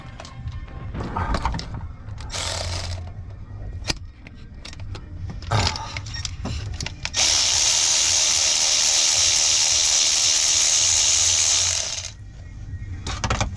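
A power tool buzzes under a Dodge 1500 truck with a 3.0 engine while a nut is removed for a water pump job: short bursts and clinks of metal first, then one loud sustained run of about five seconds.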